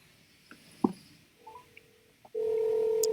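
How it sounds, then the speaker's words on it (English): A house telephone is dialed: a few clicks and short button beeps lead into a steady, loud tone that holds to the end, with no one speaking. "you gotta call the house phone"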